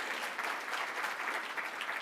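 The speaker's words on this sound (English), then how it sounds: "you can clap if you want." Steady applause from an audience at a talk on parenting and social media, a dense even wash of clapping that holds at moderate level for the whole stretch with no voices over it.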